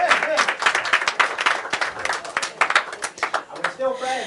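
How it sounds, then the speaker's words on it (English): Audience applause in a hall after three students share their stories at a gathering about the Hong Kong protests, dense steady clapping filling the space throughout, with some voices mixed in. "can we all give them a round of applause?"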